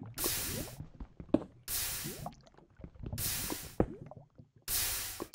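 Molten metal pouring in the Minecraft Tinkers mod comes through as wet dripping, squishing and gurgling, broken by loud bursts of hiss that return at regular intervals, close and alone.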